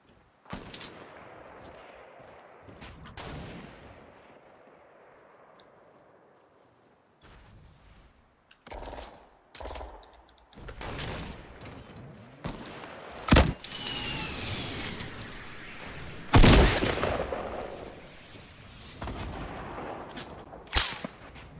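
Gunfire in Fortnite Season 5 arrives as scattered sharp cracks and bursts, some loud and close, mixed with other game noises and a sweeping whoosh.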